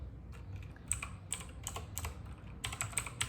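A person types a tag name on a computer keyboard at a moderate pace, the quiet, close key clicks falling in short irregular bursts with brief gaps between them, and no one speaking.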